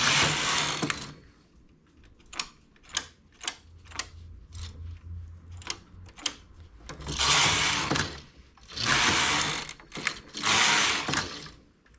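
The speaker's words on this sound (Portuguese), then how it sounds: "ainda preciso levantar as agulhas para a máquina trabalhar" A knitting machine carriage runs across raised needles, making several loud rasping sweeps. Quieter mechanical clicks and ratchet-like ticks fall in the pauses between the sweeps.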